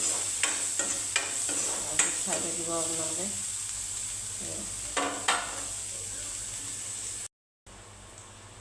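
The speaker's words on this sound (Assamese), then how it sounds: "ইয়াত পিঁয়াজখিনি ভাজি ল'ম" Onions fry in a pan, giving a steady sizzling hiss throughout, with a spatula clinking and scraping at intervals. A nearby voice talks over it partway through, and the sound drops out briefly near the end.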